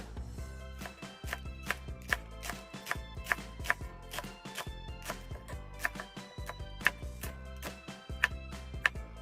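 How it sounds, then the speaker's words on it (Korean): Thin slicing of a green onion with a knife on a cutting board, a steady run of quick, crisp chops with brief pauses, close and clear with no talk. "대파는 가늘게 채 썰어 주시면 됩니다"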